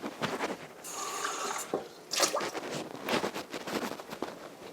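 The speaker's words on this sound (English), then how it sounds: "Let me rinse this." Running water rinsing something at a kitchen sink, a steady splashing stream with brief clinks and handling noises, fairly close.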